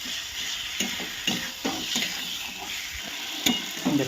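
Fried potatoes stirred into sizzling spice paste for Bengali katla fish curry, a steady frying hiss broken by repeated scraping and clattering stirs of a spoon against the pan.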